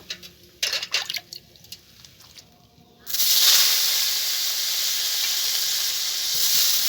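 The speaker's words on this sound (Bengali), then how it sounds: "এখন এই মাছ ভাজা তেলের ভিতরে আমি আলু আর ঝিঙেটাকে ভেজে নেব" A few clattering knocks, then a sudden loud, steady hiss as potatoes and ridge gourd drop into hot oil already used for frying fish and keep sizzling close up.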